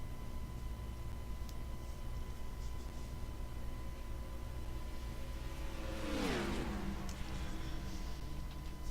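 Ford race cars competing on a circuit track, with one car sweeping past about two-thirds of the way in as a faint, distant whine that drops in pitch, over a constant hiss of background noise.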